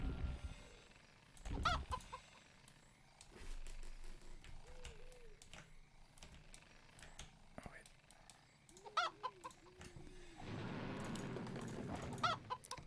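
A chicken critter clucking in Warcraft III, small repeated clucks scattered amid clicky game effects and battle sounds, heard under quiet commentary from people talking.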